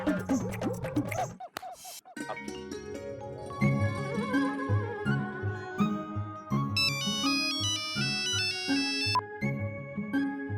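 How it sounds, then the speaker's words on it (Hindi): A melodic electronic ringtone plays steadily, with repeating tones and a bright high-pitched pattern joining midway, fairly loud with no talking. "क्यों बार बार फोन कर रही हो कोयल?"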